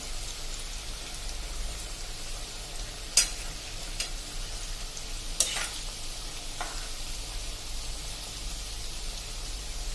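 Potato bhajiya fry in hot oil with a soft, steady sizzle, and a few sharp clinks are heard as the fritters are turned in the pan.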